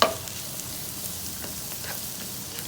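Asparagus frying in sesame oil sizzles steadily while being stirred in the pan, a close, continuous crackle with faint scraping and no talk.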